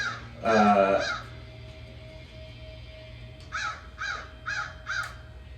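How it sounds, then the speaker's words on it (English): A crow caws repeatedly, first one loud close call then a run of four shorter caws, over a low steady background hum in a suburban neighborhood. "That crow's going crazy over there."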